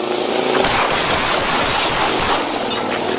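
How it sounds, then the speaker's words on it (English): A dense, loud barrage of gunshots fires continuously without pause at police during a vehicle confrontation, harsh and close throughout. "Shots fired!"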